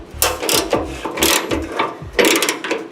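Ratchet with a 14mm deep socket removing nuts from studs on a fuel tank skid, a series of close, short clicking bursts in quick rhythmic runs with brief pauses between them.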